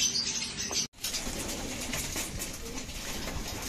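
A racing pigeon in its loft makes soft cooing and flutters its wings amid a busy, noisy background, with a brief dropout near the start.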